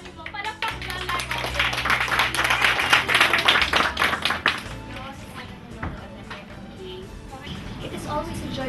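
An audience claps and applauds for several seconds, the clapping peaking and then fading, with a voice speaking over it.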